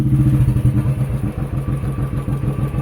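Motorcycle being maneuvered for a U-turn on a quiet road, its engine running with a steady low throbbing pulse, near and fairly loud, with a few light clattering knocks and no talking.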